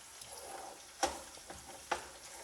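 Tomato paste frying in a pot for jollof rice, with a soft continuous sizzle broken by two sharp scraping knocks of the stirring spoon against the pot.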